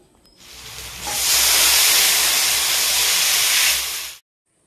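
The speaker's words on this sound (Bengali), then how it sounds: "আলু কাঁচকলা কষিয়ে এলে দিয়ে দিতে হবে জল" Water is added to a hot pan of frying potatoes and green banana, setting off a loud, close steam hiss that swells quickly, holds for about three seconds, then cuts off abruptly.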